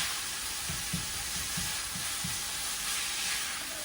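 Pork sizzles and browns steadily in a hot pan for ponzu pork tacos, a continuous close frying hiss with a few soft low thumps from stirring and no talking.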